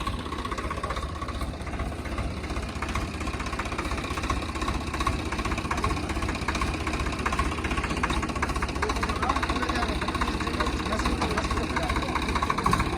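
A new Swaraj 855 tractor with a rotavator attached runs at idle during testing, a steady, continuous mid-low engine rumble with a faint knocking texture that holds evenly throughout, with voices occasionally heard nearby.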